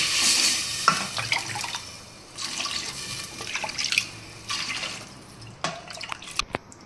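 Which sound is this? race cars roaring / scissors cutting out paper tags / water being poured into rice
water being poured into rice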